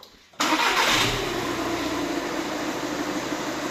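A Volkswagen Passat B6 engine cranks and catches after a short quiet moment, then settles into a steady, close idle that runs to the end with no voices.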